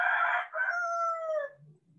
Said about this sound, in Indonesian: Malum ada ayam berbunyi.